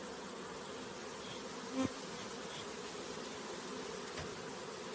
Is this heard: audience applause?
no